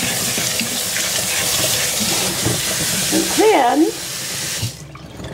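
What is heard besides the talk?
rinsing bean sprouts under running tap water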